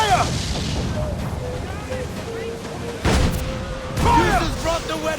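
Ship cannons firing chain shot in the naval combat of the video game Assassin's Creed 4, heavy booms and rumbling blasts layered over continuous battle noise and shouting voices.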